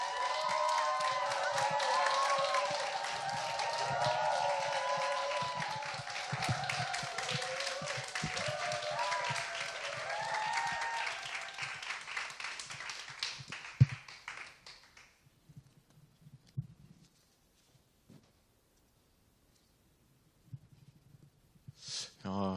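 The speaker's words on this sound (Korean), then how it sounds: "우리 박수와 환호로 목사 맞이하겠습니다" A church congregation greets a guest pastor with applause and cheering during a Sunday service: dense clapping and shouts fill the first fifteen seconds, then fade to near silence with a few scattered small noises and a short sharp sound at the end.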